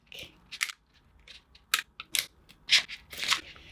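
Matte vinyl is peeled off its backing sheet in a crafting project, giving a series of short crackly tearing bursts, close and fairly loud, separated by brief quiet gaps.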